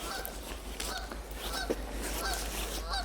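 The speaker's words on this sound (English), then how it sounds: "Maggie, the geese are going to yell at you." Several geese honk repeatedly at close range on an island in British Columbia's Gulf Islands, harsh nasal calls overlapping against a low outdoor rumble.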